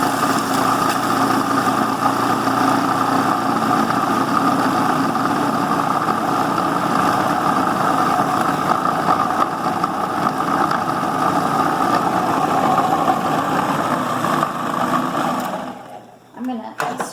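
An electric blender runs continuously while blending herbs for pesto, a loud steady motor whine with churning that holds for most of the stretch before cutting off near the end.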